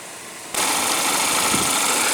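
A 2014 Chevrolet Malibu's 2.5 L Ecotec four-cylinder engine fires up and settles into a steady, close, loud idle with a dense broadband hum and no talking.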